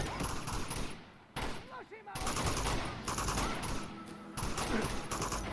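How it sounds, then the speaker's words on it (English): Gunfire from the Uncharted 2: Among Thieves video game, with dense bursts of shots and combat noise running throughout, loud and continuous, with short quieter gaps and some speech mixed in. "Who's shooting at me?"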